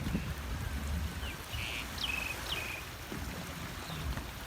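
Morning wind and choppy waves wash steadily across the Lam Chae dam reservoir near Khon Buri in Korat, a continuous broad rushing noise with faint bird chirps over it.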